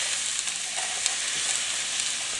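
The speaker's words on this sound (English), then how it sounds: "now I've got a saute or a stir fry of sesame oil, onion, and shrimp" Shrimp and onion stir-frying in sesame oil in a pan make a steady, close, dense sizzle that holds level throughout, with no voices over it.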